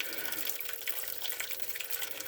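Water drains steadily from a Richmond/Rheem hot water heater tank, a continuous close rushing splash with no pauses and no voices.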